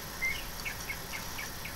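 Birds sing within the background music of a song, with several short high chirps repeating at intervals over a steady, hissy bed of sound, faint and somewhat distant, with no voices.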